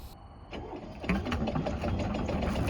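A Catalina Capri 26 sailboat's small engine starting after a brief whine, then running with a steady, mid-pitched chugging drone at close range.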